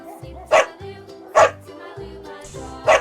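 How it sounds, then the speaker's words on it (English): A dog barks three times at a medium distance, sharp separate woofs spaced about a second apart over a bouncy children's alphabet song with sung vocals. "D for dog"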